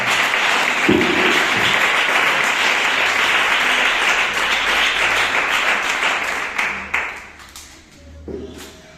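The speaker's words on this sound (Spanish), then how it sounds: "Dad un fuerte aplauso al Señor" A church congregation bursts into loud, sustained applause, a dense continuous roar of clapping that tapers off toward the end with a few scattered claps.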